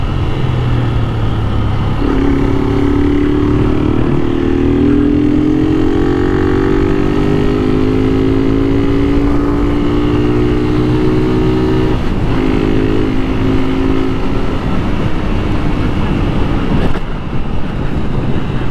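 A motorcycle engine revs and holds a rising, sustained drone for about ten seconds during a wheelie, loud and close, with a brief dip before easing off and then a short final burst.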